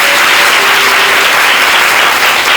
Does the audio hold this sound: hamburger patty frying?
no